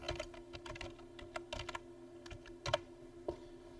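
Keys on a computer keyboard clack in quick irregular bursts as a worksheet tab name is typed in Excel, crisp and close over a faint steady hum, with no voices.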